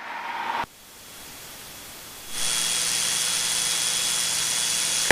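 Steady broadband engine and propeller drone inside the cockpit of a small general aviation airplane in flight, loud and continuous, stepping up in intensity partway through as the power changes, with no talk.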